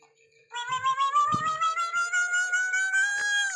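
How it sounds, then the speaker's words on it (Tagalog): A cat gives one long, drawn-out meow that rises and wavers, loud and close, after a brief quiet start, with a couple of faint bumps and knocks underneath. "Hoy, ikaw pusa ka."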